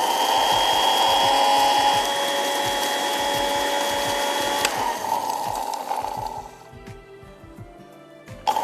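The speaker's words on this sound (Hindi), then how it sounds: "अब हमने इसको पीसना है" An electric grinder runs loudly, milling dry mango powder and salt for achaar with a steady motor whine and rhythmic rattling, then winds down and stops near the end.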